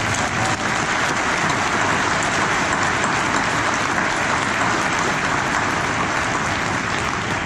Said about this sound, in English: Please join me in a round of applause and thanks for this.